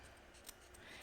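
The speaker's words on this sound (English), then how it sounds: "As you see, I'm just cutting because we don't want any fabric" Scissors snipping through a satin fabric border during bow sewing, one brief faint cut with a soft crisp edge over low room noise.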